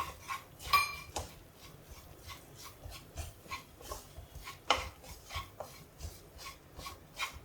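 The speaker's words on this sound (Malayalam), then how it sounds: "പിന്നെ കടുകിൻ്റെ പരിപ്പ് കടുകിൻ്റെ പരിപ്പ് അതും കൂടെ ചേർത്ത് നന്നായിട്ട് മിക്സ് ചെയ്യാം" Ground fenugreek, cumin and split mustard seeds mixed together, giving a soft repeated gritty scraping and rubbing with faint clinks of a utensil against a bowl, steady and close.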